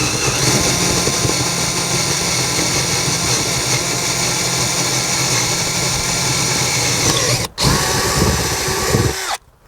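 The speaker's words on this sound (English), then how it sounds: "next we're going to drill our 3/8 hole in here" A power drill bores a 3/8-inch hole through an exterior wall while installing a motion-activated security light, a loud steady whine running nearly unbroken for several seconds before a brief stop and a short final burst.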